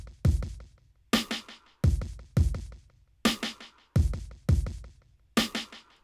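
Rock drum kit in a halftime feel for a worship song: sparse, spacious hits with deep kick and cracking snare accents spaced widely apart, each ringing out before the next, played alone and up close.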